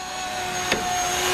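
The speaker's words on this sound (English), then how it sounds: "A Dremel." A Dremel rotary tool runs outdoors to clear weeds, giving a steady high whining hum with a brief sharp scrape partway through.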